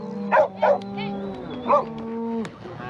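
A herd of reluctant cows is pushed along by herding dogs; a long low moo runs through most of the stretch while short sharp barks pop up three times, close and distinct above the bellowing.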